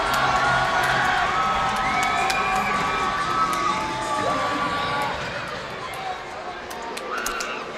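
A crowd at the Covelli Center cheers, shouts and whoops loudly during a Youngstown Phantoms hockey game, a sustained roar that eases slightly toward the end, with a commentator talking over it.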